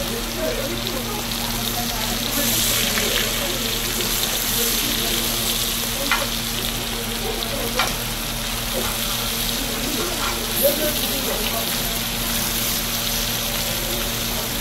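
Bheja fry, goat brain, sizzling steadily in oil at a roadside dhaba kitchen, with a continuous close frying hiss and occasional stirring clinks for about fifteen seconds, no one talking.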